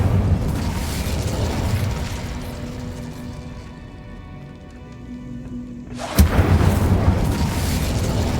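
A fire spell cast in the video game Hogwarts Legacy bursts out as a sudden loud whoosh near the end, rising sharply from a steady, noisy game ambience and then holding as a dense crackling roar.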